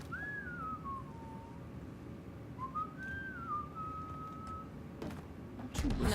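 Melodic whistling inside the video game Mass Effect Andromeda, two rising-and-falling whistled phrases carried over a steady low game ambience, followed by a few brief clicks and a louder burst at the end.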